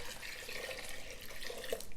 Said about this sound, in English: Gonna add in 4 cups of water.